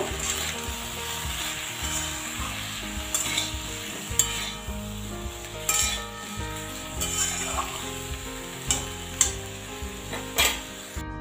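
A spoon stirs spices and sugar through pumpkin curry sizzling in a pan, with steady frying crackle and repeated soft scraping strokes at a moderate, even rhythm, close and fairly quiet.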